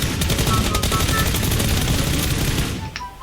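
Dense, rapid gunfire rattles without pause in the video game PUBG Lite, loud and close throughout, before thinning out near the end.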